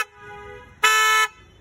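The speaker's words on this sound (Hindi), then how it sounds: "हॉर्न हमने इसके अंदर डाले, क्रेटा साउंड प्योर कॉपर का है, प्योर कॉपर, चेक करो भाई आवाज" A pure copper Creta-sound car horn fitted to a modified 2024 Maruti Suzuki Fronx: a short faint toot, then a loud, bright half-second honk, sounded close with no talking over it.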